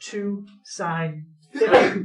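A single sharp sneeze bursts out in a classroom during a math lesson, close and fairly loud, right after a teacher's brief spoken phrase.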